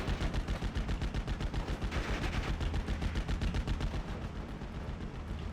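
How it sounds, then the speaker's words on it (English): Heavy machine gun fire in the WWII strategy game Steel Division Normandy 44, a long sustained burst of rapid, evenly spaced rounds with booming low end, loud and continuous without pause, no voices over it. "Heavy machine gun should be firing."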